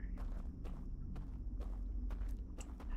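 Footsteps in the video game Outer Wilds: a steady run of soft, evenly spaced steps over a low rumbling ambient drone, with no talking.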